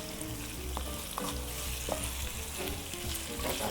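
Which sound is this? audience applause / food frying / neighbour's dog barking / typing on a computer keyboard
food frying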